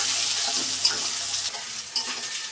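Onion and garlic sizzle steadily in hot oil in a pan, a continuous close hiss with a couple of soft stirring knocks, no voices.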